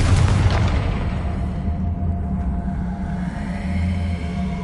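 A Confringo blasting spell goes off in Hogwarts Legacy, opening with a heavy booming burst that rolls into a long, rumbling fade of low explosive noise.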